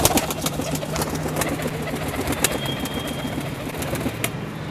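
A jet-black pigeon coos softly in a low, repeated rhythm over a steady background of other bird calls and ambient noise, with no talking.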